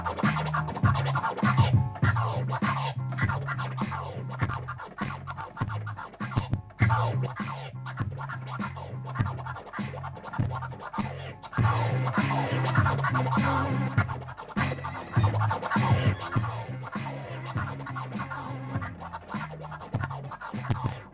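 DJ scratching a vinyl record on a turntable over a music beat, quick rhythmic back-and-forth cuts repeating in a steady pattern, each forward and back movement chopped twice, played alone without talking.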